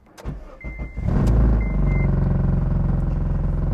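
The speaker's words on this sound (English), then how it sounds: "The buzzing you hear is actually because it's a K24, the header's a little bit high and it's actually touching the bottom of the engine" An eighth-generation Honda Civic coupe with a swapped K24 engine starts and settles into a loud, steady idle, a constant buzz from the exhaust header touching the underside of the engine, heard close after a few clicks and short chimes.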